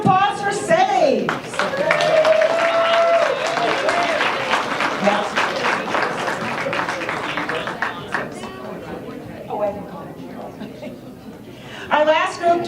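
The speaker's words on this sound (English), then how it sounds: "Round of applause for Saves." Audience applause at a volunteer appreciation luncheon, a sustained round of clapping from a crowd with scattered chuckles and voices mixed in, fading slightly before a brief renewed burst near the end.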